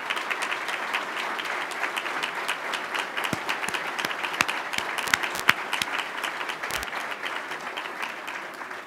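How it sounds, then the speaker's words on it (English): An audience at a leaders' debate in Thunder Bay gives a round of applause, a steady crackling wash of many hands with a few sharper claps standing out near the middle, heard from a moderate distance. "we'll give them a round of applause as well"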